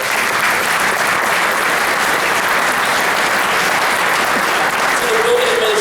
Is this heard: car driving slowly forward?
no